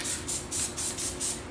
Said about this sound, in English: I'm gonna put down a little spray tack